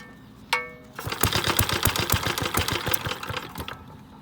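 Vintage Cooper PT 1.3hp four-stroke stationary engine trying to start: one sharp knock, then about three seconds of rapid, even firing pulses that catch briefly before dying away, loud and close.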